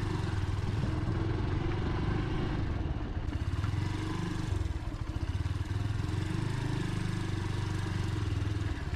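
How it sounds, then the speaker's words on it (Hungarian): A Keeway XLight 125 motorcycle engine idles close by with a steady, low chugging rumble and rapid mechanical ticking, continuous throughout. "Halljátok, vagy nem halljátok a motor hangját?"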